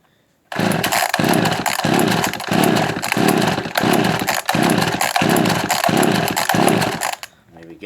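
Echo 280e chainsaw starting after ten years unused, its small two-stroke engine roaring loud and close in repeated revving bursts with brief dips between, then cutting out near the end.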